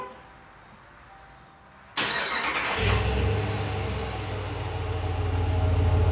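A stock-exhaust 2021 Ram Rebel pickup cranks and fires after a short quiet lead-in, then settles into a loud, close, steady rumbling idle that holds to the end.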